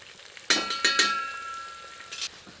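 Mutton with ginger garlic paste frying in a hot pan, a few sharp clinks and scrapes of a spoon against the metal over a fading sizzle, close and fairly quiet, with no voices.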